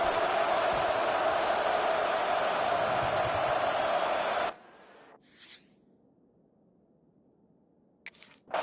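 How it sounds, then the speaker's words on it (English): Stadium crowd roar in an EA Sports college football video game at an Auburn Tigers game: a loud, dense, sustained roar for about four seconds that cuts off abruptly into near silence with a few faint clicks. "Listen to the crowd energy here in the early going."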